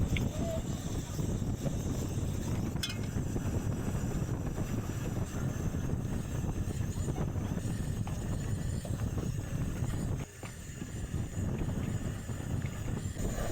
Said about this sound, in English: That wind is kicking, so I have to move it over here.